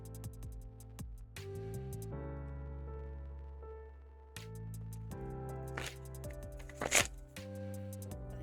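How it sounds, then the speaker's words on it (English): Soft, repeated riffling and flicking of a tarot deck being shuffled close by, in irregular bursts over a low steady hum. "This is like probably one of the like easiest shuffling decks that I own."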